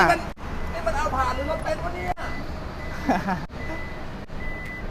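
An aftermarket PP Autotech automatic electric tailgate on a car, opened by a kick sensor outdoors, with repeated warning beeps and motor hum while people talk over it nearby.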